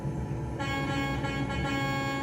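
A sustained, loud truck horn in Euro Truck Simulator 2 blares steadily with a deep, buzzy tone, continuing without a break.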